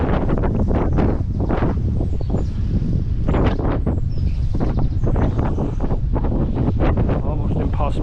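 Strong wind buffets the microphone beside a brook where someone is fishing, a loud continuous rumble with gusty surges throughout, nearly covering any other sound.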